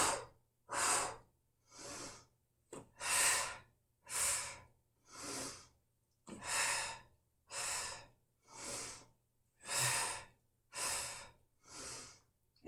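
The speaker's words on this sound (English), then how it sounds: "So I'm inhaling here, exhaling, 2 pulses." Deep, audible breaths during a Pilates shoulder workout come close to the microphone, about a dozen regular inhales and exhales in a steady rhythm with brief silences between them.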